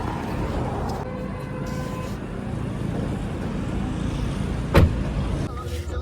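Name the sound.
car on a road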